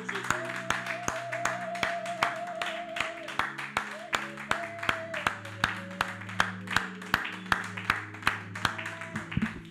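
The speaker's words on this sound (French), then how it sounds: "Applaudissons pour Jésus." Rhythmic clapping in a steady beat at a church worship service, a congregation's hands keeping time over sustained music and singing.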